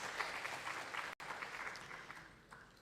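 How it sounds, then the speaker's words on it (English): Applause from a seminar audience as a speaker is called to the stage, a dense, distant-sounding wash of clapping that continues steadily, broken by one very brief dropout. "Round of applause."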